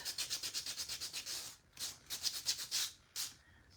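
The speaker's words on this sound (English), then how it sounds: "a decent piece of sandpaper will make a world of difference" Sandpaper rubs in quick rhythmic back-and-forth strokes over a painted wooden craft piece, distressing the paint, close and crisp with a short pause midway.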